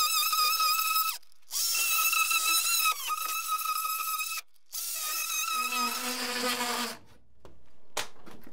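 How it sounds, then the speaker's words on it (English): An oscillating multi-tool cuts through drywall in bursts, a loud buzzing, high-pitched whine that starts and stops several times with short pauses and a dropping pitch near the end, ending in silence and a faint tap. "I'm gonna make this one easier and cut it with my oscillating tool."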